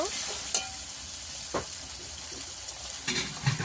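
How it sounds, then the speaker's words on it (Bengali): Steady close sizzle of spice paste frying in oil for a country chicken curry, with a few sharp stirring clatters as the chicken meat goes in; no voices. "মশলা থেকে তেল ছেড়ে গেছে, এবার দিয়ে দেবো মাংস।"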